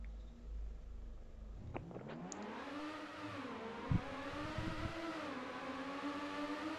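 A race car engine in a racing video game revving up and holding a steady, rising and dipping whine as it accelerates, fairly loud and continuous with a few brief thumps.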